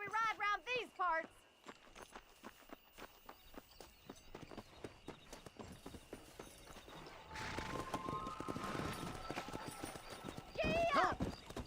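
Horses clip-clopping along at a steady walking gait in the Red Dead Redemption video game, a neigh rising at the start and another near the end, with denser hoofbeats and other noise building in the second half.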